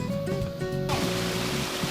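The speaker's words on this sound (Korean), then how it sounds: "첨벙첨벙 물장구를 치고 있네요." Water flows steadily along a stream beside a shaded, tree-lined walking path in Busan, with a continuous rushing and splashing wash that stays fairly loud and close throughout, without any voices.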